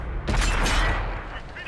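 A cannon shot in a video game, a loud close blast with a long rumbling, noisy decay that fills the short moment.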